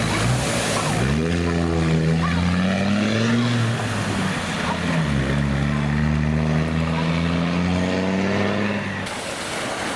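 A police car drives through deep water on a green lane, its engine droning and rising in pitch with a steady splashing rush, loud and close.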